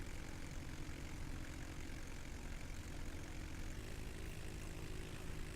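A propeller airplane's engine drones steadily and loudly on the landing approach, a dense continuous roar with faint tonal hum and no voices.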